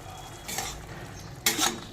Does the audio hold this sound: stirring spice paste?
yes